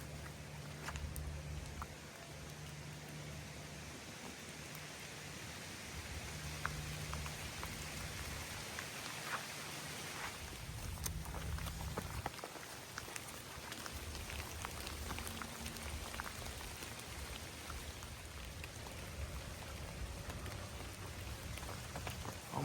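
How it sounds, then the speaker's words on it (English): Steady rain falls along the Appalachian Trail in Pennsylvania, a dense, continuous hiss of drops spattering nearby surfaces for the whole stretch, with occasional louder patters and a low rumble. "As you can see, it's still raining."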